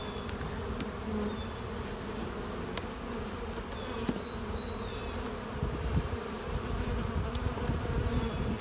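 Honey bees buzz steadily around brood frames taken from a hive, a dense continuous hum with a few individual insects droning closer now and then, no talking.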